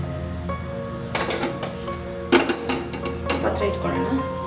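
A metal cooking pot set onto a stove while preparing puliyogare gives several sharp clanks and clinks in close succession, with a faint voice in the background.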